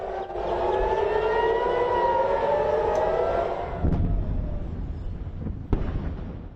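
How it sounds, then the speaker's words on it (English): Air raid sirens wail over Tel Aviv and Jerusalem, rising and falling in sustained loud tones, then fading as a deep boom lands near the four-second mark and another sharp thud follows shortly after. "air raid sirens and loud booms were heard over Tel Aviv and Jerusalem"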